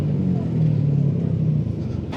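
Motorcycle-heavy Manila traffic rumbles past close by, a steady engine drone with a low hum and a brief rise in revving near the end.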